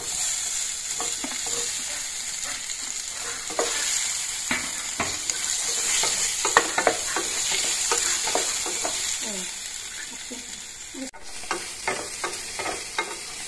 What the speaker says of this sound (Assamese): আলুখিনি অলপ ভাজি লওঁ।